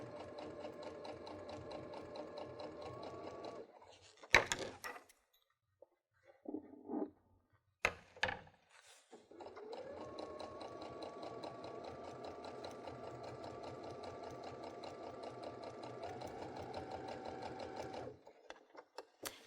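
A Baby Lock sewing machine fitted with a garment maker foot stitches at a moderate pace along a straight edge of fabric. Two sustained runs of rapid mechanical chatter are separated by a brief pause with a few clicks and knocks.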